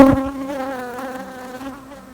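Honey bees buzzing near a hive during mite treatment, a close steady droning hum that gradually fades, with no talk.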